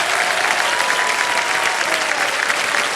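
A studio audience at a quiz show applauds without pause, a thick, full wash of clapping from many hands with a faint murmur beneath.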